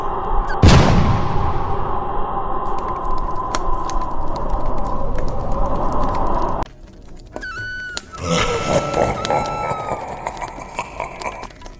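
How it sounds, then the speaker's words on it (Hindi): A sharp, loud firecracker bang near the start, followed by a lingering rumble and crackling noise, then scattered pops and clatter. "ले आज मैं भी पटाखा डालती हूँ।"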